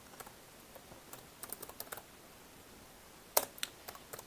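Quiet clicking of keys on a computer keyboard as a command is typed, with irregular bursts of keystrokes and brief pauses, close and soft with no talk.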